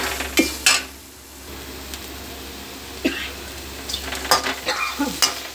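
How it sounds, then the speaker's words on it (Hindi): Chopped onions frying in oil in a pan and being stirred, with a soft steady sizzle under scattered scrapes and clinks of a spoon against the pan, close and without talk. "ये जो कटे हुए प्याज हैं, इन कटे हुए प्याज को हम इसमें डाल करके और थोड़ी देर इनको गलने तक हम"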